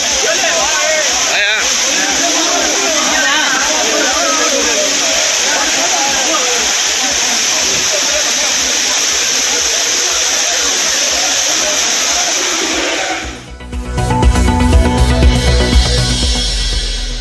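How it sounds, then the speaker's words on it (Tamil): Courtallam waterfalls with moderate flow give a steady, loud rushing roar that runs without a break before cutting to other sounds near the end, with talk over it. "குற்றால அருவிகளில் மிதமான நீர்வரத்து."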